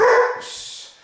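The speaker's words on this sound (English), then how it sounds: "that's my dog Pumpkin right now" A dog barks once up close, a single loud bark trailing into a brief yelp, heard alone with no talking.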